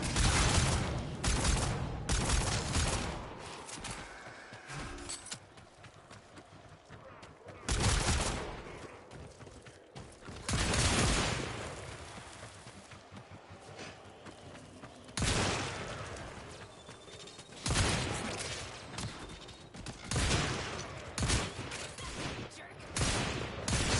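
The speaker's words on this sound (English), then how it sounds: "Sometimes I do hip fire." Hip-fire gunfire in Warframe, bursts of loud automatic shooting separated by quieter gaps, each burst a dense rattle of shots over game ambience.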